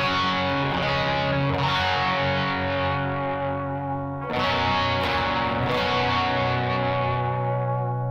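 Electric guitar played through a low-gain overdrive preset modeled on a Klon Centaur pedal, with the neck and bridge humbuckers both engaged; sustained, full chords ring out with a strum restrike near the middle and another soon after, steady and loud with no talking.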